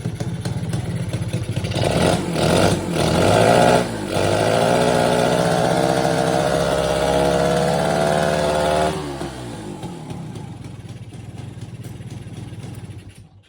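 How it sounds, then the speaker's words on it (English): A 1969 Yamaha YA6 motorcycle engine running after years unused, a close, loud idle with a couple of early blips, settling into a steady putter that cuts off near the end. "you can turn the key and you can hit the push start and it idles"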